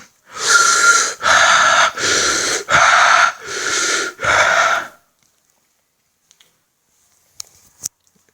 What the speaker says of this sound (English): Do you see that? A breathing exercise.